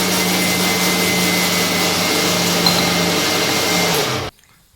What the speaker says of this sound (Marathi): मिक्सर चालू झाला.